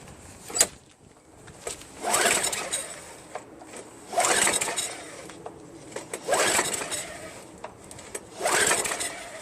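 A Craftsman 5.5HP Tecumseh self-propelled lawn mower is cranked by its pull cord over and over, four or five strong rasping pulls in a slow rhythm. Between the pulls the engine does not catch and stays quiet. No one talks.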